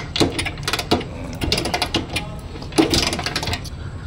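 A 1989 Rajdoot 175 motorcycle engine turning freely, giving close, repetitive mechanical clicking and rattling in an uneven rhythm.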